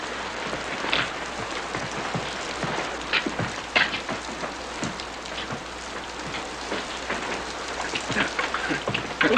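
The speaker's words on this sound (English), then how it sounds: "Looks like the rain's letting up some." Steady, heavy rain pours down over an Old West setting, with dense patter and splashes that keep up without a break, loud and close, and no voices.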